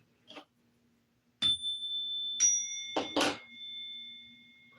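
A few bright bell dings with long ringing tones, one after another in quick succession, mixed with soft knocks in an otherwise quiet space.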